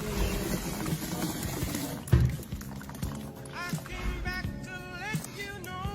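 Water runs from a kitchen tap during cooking, a continuous splashing wash with clattering bumps and a sharp knock partway through, while faint voices and background sounds sit underneath.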